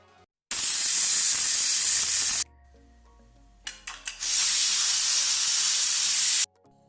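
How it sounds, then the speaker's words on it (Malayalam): A kitchen pressure cooker cooking aviyal has its pressure released by hand, giving loud, close hissing bursts of steam with a short stuttering sputter between them. "അപ്പോൾ തന്നെ ഞാനതിൻ്റെ പ്രഷർ ഇങ്ങനെ കളയാണ്."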